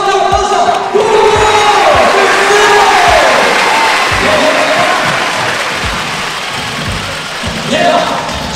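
A large indoor crowd at a P.LEAGUE+ basketball game for the Taipei Fubon Braves cheers and applauds, with a continuous roar and a thumping beat beneath it, and an announcer speaks over the noise.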